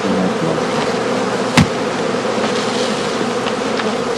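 Dense, continuous buzzing of honeybees swarming from a bounced straw skep, loud and close throughout, with one sharp knock partway through.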